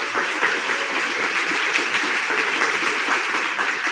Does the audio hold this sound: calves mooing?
no